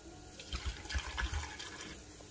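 A glass of water poured into a Moulinex blender holding chopped coriander, parsley and celery, a brief close splashing gurgle of liquid with no talking.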